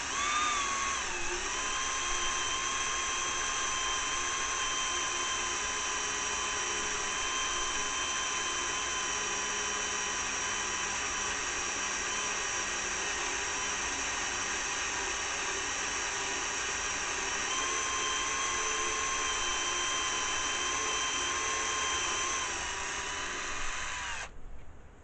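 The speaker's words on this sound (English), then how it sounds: "you don't want to overheat your drill bit." A power drill whines steadily into a mud mower's metal front hub for a long stretch, its pitch dipping slightly under load, then stopping abruptly at the end.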